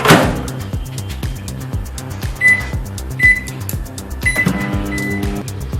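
A microwave oven running while cooking paneer bhapa, a steady low hum with regular ticking pulses and a few short high beeps, then a louder clunk and shift in tone near the end.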